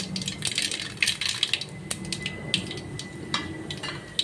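Mustard seeds spluttering and popping in hot oil, a close run of sharp irregular crackles and pops over a low sizzle, loudest in clustered bursts.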